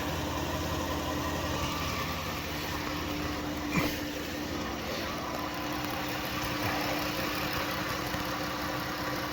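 A car engine idles steadily at close range during a coolant thermostat check for a P0128 code, a constant low rumble with one brief clunk partway through.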